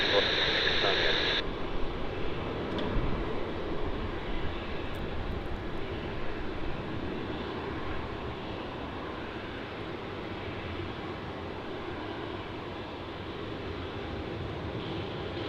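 An airliner lands on runway 16 at Melbourne Airport, a steady broadband jet roar that holds and slowly fades over about fifteen seconds. A brief tone and faint voice chatter sit over it at the start.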